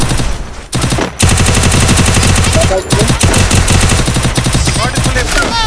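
Rapid automatic gunfire rings out in the Free Fire battle royale game, loud, close bursts rattling almost continuously with brief pauses and a few single shots between.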